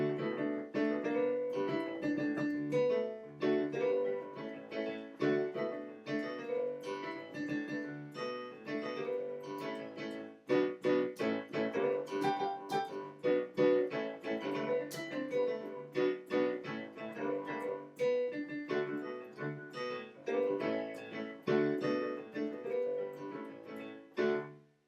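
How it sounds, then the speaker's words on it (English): Solo piano playing a rock-and-roll arrangement in G, with a steady left-hand rhythm under right-hand chords, played continuously and fairly loud throughout. "It's going to sound something like this."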